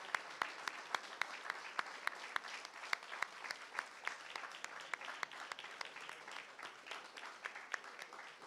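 Audience applause after a Rotary Symphony Orchestra concert, a steady wash of many hands clapping with a few sharper claps standing out, heard at a moderate distance.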